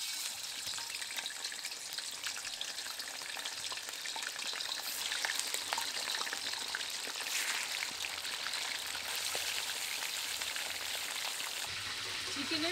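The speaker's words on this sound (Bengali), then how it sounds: "এখন চিকেনের পিসগুলো দিয়ে দেবো।" Chicken pieces for chicken chaap sizzle in hot oil in a wok, a dense, steady crackle like rain on a surface that continues evenly for over twelve seconds without speech.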